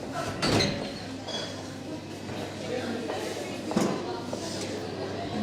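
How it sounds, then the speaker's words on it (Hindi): A door being opened in a café in St Petersburg, with a sharp thud and rattle near the start and another knock later, over ambient room noise and someone talking. "और दरवाज़ा खोलती हूँ"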